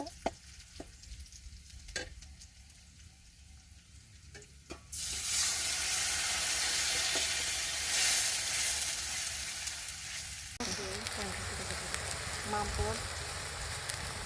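Onion, garlic and green chili fry in oil, a loud, dense sizzle that bursts in after a few quiet seconds of light taps and continues to the end with faint stirring scrapes.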